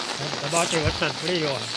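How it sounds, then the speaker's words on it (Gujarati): Heavy monsoon rain with thunder pours down steadily in a constant wash of noise over a village in Babra taluka, Gujarat, while a person talks over it nearby. "1 કલાકથી પણ વધુ વરસાદ પડી રહ્યો છે."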